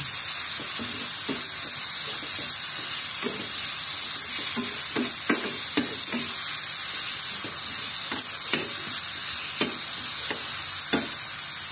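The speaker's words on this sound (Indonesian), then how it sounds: "Goreng sampai matang." Chicken fries in a pan with a constant bright sizzle while being stirred, giving repeated soft scraping knocks every second or so. The sizzle is close and steady, with no talking.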